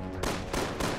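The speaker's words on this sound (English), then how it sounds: "Explosions everywhere." Repeated loud blasts and gunfire bursts from a Resident Evil 6 Siege mode match, three dense booming hits landing roughly every third of a second with no pause between them.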